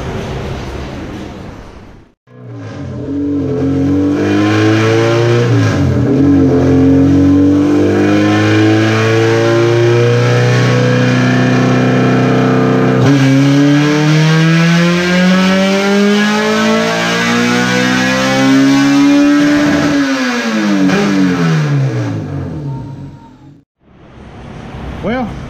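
A Honda Prelude with a naturally aspirated K-series engine revs through a long dyno pull, its loud droning pitch climbing steadily to high rpm, briefly dipping, then rising again before cutting off, close and dominant throughout.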